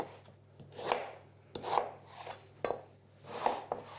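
A knife rough-chops celery root on a cutting board in distinct bursts, each stroke a crisp crunch landing on the board, spaced unevenly across a few seconds, close and clear with no speech.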